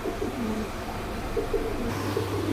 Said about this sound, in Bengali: এই যে দেখেন কবুতরগুলো আমি ভিডিওর খাঁচায় নিয়ে দেখাইতেছি।